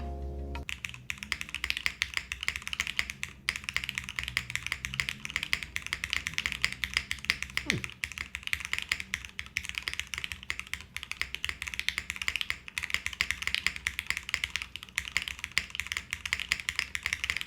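Rapid continuous typing on a Fukuro leaf-spring mechanical keyboard with an aluminum plate and Yukihana switches, crisp clacky keystrokes in a steady stream, close and fairly loud.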